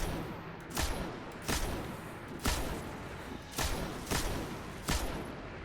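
Single sniper-style gunshots from the video game Destiny 2 during a solo High Roller Nightfall mission, fired about every second in a steady rhythm, each loud sharp crack fading over a continuous background hum.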